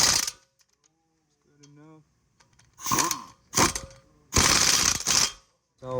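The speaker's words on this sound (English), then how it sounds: "After I install my wheel bearing, put the bolts back. Now I'm gonna tighten it." A ratchet wrench tightens wheel bearing bolts on a VW GTI in several loud, close bursts of quick clicking, separated by pauses, with a person talking briefly between them.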